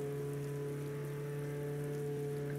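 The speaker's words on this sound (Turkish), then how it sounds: "Yağmur da başladı." Rain falls steadily in the Roblox game Jailbreak, a continuous even hiss with a low droning hum running underneath throughout.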